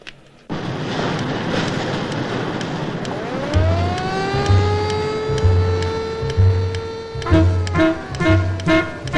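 A car engine runs steadily and close by, with rising tonal whine as it gathers speed, then rhythmic low thuds and sharper bursts toward the end over the continuous motor noise.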